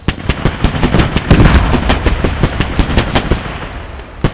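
Repeated gunfire from the military shooter game Squad, with sharp shots crackling in an irregular burst pattern, some close and loud, over a constant rumbling battlefield backdrop.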